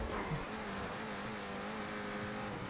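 Steady engine drone of a car being driven in GTA 5 during a chase session, carefully conserving vehicle health, a continuous mid-level motor hum with no talk.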